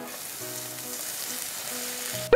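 Chopped scallions frying in hot oil for scallion oil, a steady close crackling sizzle throughout with faint tonal hum underneath, ending in a sudden loud clatter.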